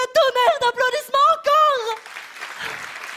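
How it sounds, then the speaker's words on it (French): A TEDx audience breaks into applause right after a speaker talking in French falls silent, the clapping entering softly and continuing as a brief, lower-level wash of hands. "vous faites un tonnerre d'applaudissements"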